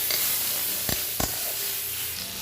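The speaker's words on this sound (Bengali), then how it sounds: "এর সাথে দিয়ে দিব হলুদ গুঁড়ো, জিরে গুঁড়ো আর ধনে গুঁড়োটাও দিয়ে দিলাম। ভালো করে নেড়ে দিব মশলাটায়।" Ground turmeric, cumin and coriander powder sizzle steadily in a hot pan, with a couple of short scraping knocks from a spoon stirring the spices, heard close and alone.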